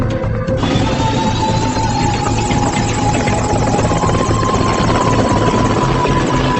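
A helicopter's steady rotor thumping and engine whine, loud and continuous throughout, with a faint rising tone drifting in the upper range.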